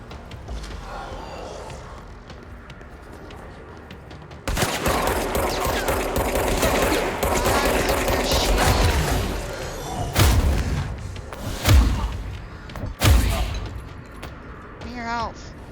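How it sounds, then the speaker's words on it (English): Gunshots in the game Control go off in a few heavy, booming bursts over a rumbling ambient bed. Several loud thumps punch through near the end. "But I can get a couple of shots in."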